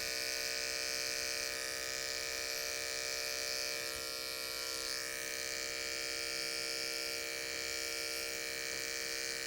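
Electric hair clippers shaving up the sides of a men's undercut with a disconnected side part, a close, steady high-pitched buzz humming continuously with no talk.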